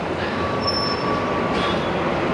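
A train rolls through a station in Dublin Docklands with a steady close rumble, while thin high wheel squeals ring above it in long sustained tones.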